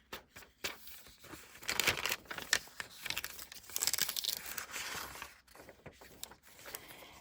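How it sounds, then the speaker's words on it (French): Old, brittle junk-journal paper crackles and crinkles as pages are turned by hand, with a run of crisp, close rustles and crunches rising and falling over several seconds, no voices. "le papier devient croquant. Il fait du bruit"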